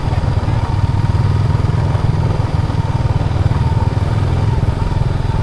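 Motorcycles in a rural provincial village drone steadily at close range, a constant mid-pitched engine rumble with a slight clatter that holds the whole time.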